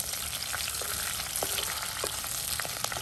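Five green chillies frying in a pan for a raw banana palya, a soft steady sizzle with faint scattered crackles, no talking.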